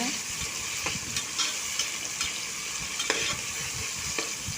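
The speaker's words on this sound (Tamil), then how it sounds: "வெங்காயமும் தக்காளியும் ஈவனாக போடுறாங்க அதையும் சேர்த்து நல்லா வதக்கலாங்க" Onions and tomatoes sizzle in hot oil for mutton biryani while a spatula stirs and scrapes the pan, a constant close hiss broken by irregular knocks and scrapes.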